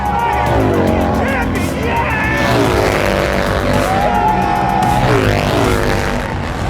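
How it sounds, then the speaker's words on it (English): A racing bagger motorcycle on a racetrack's front straightaway gives a loud engine roar with rising and falling pitch as it accelerates and shifts. A race commentator talks over it throughout. "Here comes Troy Herfoss onto the front straightaway"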